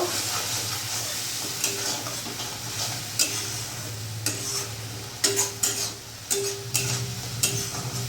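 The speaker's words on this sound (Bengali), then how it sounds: "এবার ভালো করে আমি মশলার সাথে কষিয়ে নেব" Spices being stirred and fried in a pan with a little water for a spicy fish and pointed gourd curry, a steady close sizzle broken by repeated scraping strokes of a spatula, with no speech.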